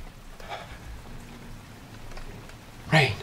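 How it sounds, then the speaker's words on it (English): Steady rain patters in the background of a wartime scene at Cambrai in northern France, soft and continuous, with a brief louder burst near the end. "Rain."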